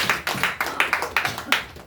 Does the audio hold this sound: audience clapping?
yes